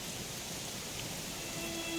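Steady rainfall in the video game Dragon Quest XI S, a continuous broadband hiss of drops on surfaces that stays even and moderately loud throughout, with no voices.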